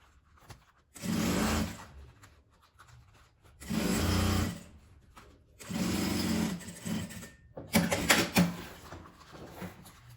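A sewing machine stitches fabric for a honeycomb drawer organizer in four short bursts, each a second or so of close whirring separated by quiet pauses with light handling of the fabric.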